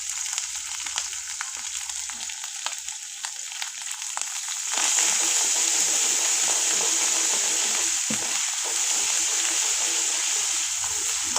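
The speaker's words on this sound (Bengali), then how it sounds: "এখন আমরা শুকনো মরিচ দিয়ে দেব।" Dried red chillies dropped into hot oil with ginger paste for a taro leaf dish, a steady crackling sizzle that jumps louder partway through and keeps spitting and bubbling while being stirred, with no voices.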